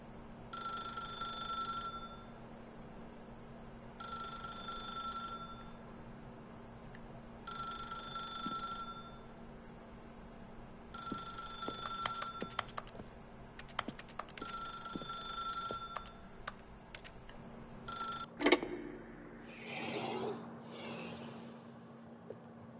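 Telephone ringing in The Stanley Parable, five or six bright electronic ring bursts repeating at regular intervals over a low steady hum, ending with a clatter as the receiver is picked up.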